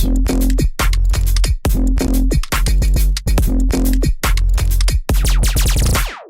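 Punchy electronic music with a deep synth sub bass trading call-and-response phrases with a buzzy lead in a bouncing eighth-note triplet groove, loud and up front, ending on a descending laser-like zap.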